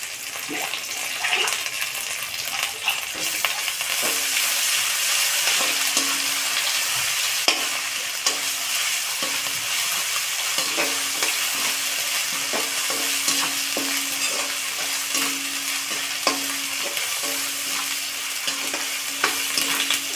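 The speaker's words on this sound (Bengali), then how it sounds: "এখন আদা রসুন বাটাটা দিয়ে দেব।" Ginger garlic paste fries in a pan with a continuous bright sizzle and hiss, while the stirring adds repeated soft scraping clicks, close and steady for about twenty seconds with no voices.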